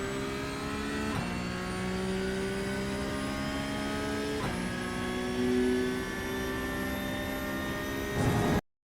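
Porsche 911 Cup (992) GT3 engine in iRacing at the Red Bull Ring, droning steadily at high revs with two sharp gear-shift breaks, then a brief louder surge before cutting off.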